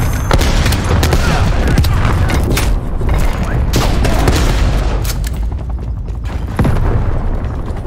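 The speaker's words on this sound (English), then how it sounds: "Sending frag grenade." Heavy booming blasts and rapid gunfire roll through a hectic Call of Duty Cold War match, a frag grenade explosion landing among loud, dense battle noise with repeated thuds and crackling shots throughout.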